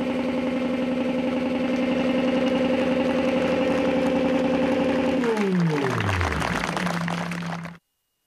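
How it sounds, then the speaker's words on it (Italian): An engine gives a long, growling rev held at a high, steady pitch as a funeral farewell, then winds down sharply and cuts off abruptly near the end. "l'ultimo saluto è stato lasciato al motore, nella sua ringhiosa, lunghissima sgasata"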